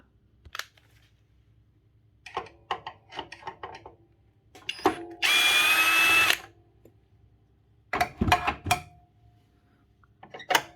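A power drill spins out a bolt from the linkage arm of a Makita LS1013 miter saw: one steady, loud burst of about a second, surrounded by clicks, clatter and the handling of metal parts.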